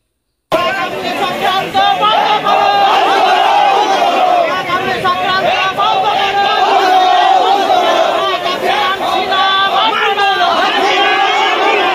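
Protesters at a student human-chain demonstration at Eidgah grounds shout slogans in unison against the Waqf amendment bill, a loud, continuous crowd chant close by that fills the whole stretch after a brief silent start.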